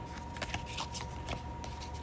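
Oracle cards riffled and shuffled by hand up close, a quick run of crisp papery flicks and slaps with no talking.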